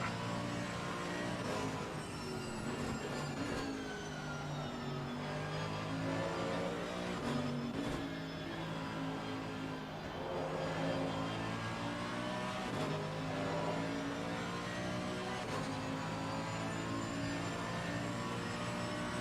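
A car laps the Nurburgring with a steady, loud engine drone heard from inside the cabin, its pitch rising and falling through gear changes and acceleration, with no talk.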